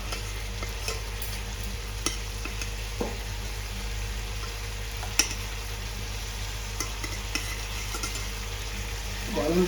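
Potatoes and cauliflower sauté together in a pan with a steady sizzle, while a utensil stirs and scrapes with scattered clinks, heard up close.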